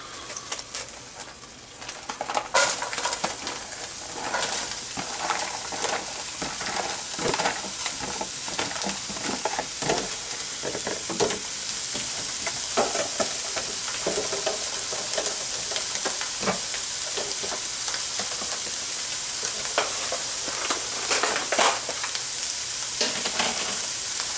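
Vegetables and kale stir-frying in a hot pan for baked spring rolls: a steady close sizzle with repeated stirring and scraping clatter throughout, no talking.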